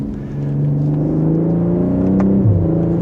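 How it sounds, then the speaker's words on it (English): A 2026 BMW M240i with an 8-speed gearbox accelerates, its engine note droning steadily and rising in pitch, then dipping sharply near the end as it shifts, loud and close throughout. "And with a slight acceleration, the 8-speed is going to be super quick."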